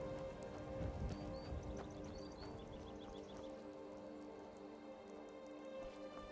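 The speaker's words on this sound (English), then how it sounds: "we'll put up with the rain at least" Rain falling in the video game Skyrim at night by a stream: steady patter of raindrops on surfaces, constant and moderately loud, with faint bird-like chirps briefly above it.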